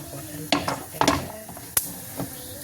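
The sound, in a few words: fenugreek seeds sizzling in hot oil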